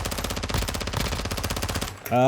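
Rapid bursts of automatic gunfire in a video game, loud and sharp, rattling for about two seconds before cutting off into a brief tonal ring.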